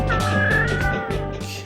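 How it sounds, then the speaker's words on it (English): A kitten meows in the video game Falling Stars, one drawn-out, fairly loud cry over a steady tonal game background, with no talk. "Bobo's kitten is trapped on top of a tower near Birthday Cake Castle."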